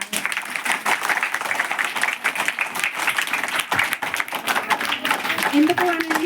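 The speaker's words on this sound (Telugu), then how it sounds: "వాళ్ళందరూ కూడా మనం ఒకసారి చప్పట్లు గట్టి కొట్టాలి" A crowd of parents and children applauding at a school parents' day gathering, loud sustained clapping from many hands throughout, close and dense.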